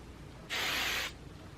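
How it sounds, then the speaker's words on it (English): A single short burst of hairspray from an aerosol can onto hair, a soft, airy hiss lasting just over half a second amid quiet room tone. "I just kind of run my fingers through it and then spray it"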